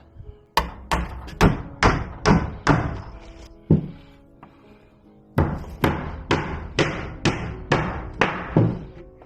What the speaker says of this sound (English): I'll bang a couple of nails in that and we'll be right.